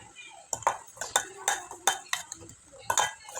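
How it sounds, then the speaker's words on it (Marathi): A spoon stirs a thick mixture of soap base and masoor dal in a metal pot on the stove, clinking against the sides in quick repeated strokes, close by. "व्यवस्थित मिक्स करून घ्यायचं आहे"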